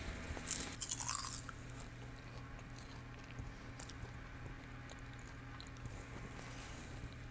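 Close biting into crispy air-fried kale chips, a sharp crunch early followed by quiet soft chewing and faint crackles, with no voice.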